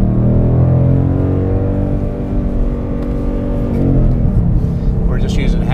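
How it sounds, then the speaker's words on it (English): A 2013 Ford Mustang Boss 302 track car drives with a loud, steady engine drone held at moderate revs. It dips briefly midway and then resumes, with light road noise and faint clatter near the end. "Taking our Boss 302 track car out."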